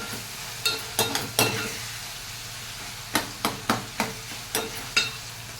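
Fish pieces frying in a pan for Nellore-style fish curry, a steady background sizzle broken by a string of sharp spatula scrapes and taps against the pan, with no talking.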